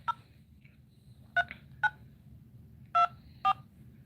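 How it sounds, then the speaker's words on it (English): Telephone keypad tones dialing a call: five short DTMF beeps in an uneven rhythm, clear and close over a low background hum, with no talking. "So I am going to go ahead without further ado and give Miss Jen a phone call."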